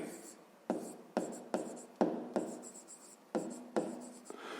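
A pen writes fractions on paper up close, a series of about eight short scratchy strokes, each starting sharply and trailing off, spaced irregularly with brief pauses between them.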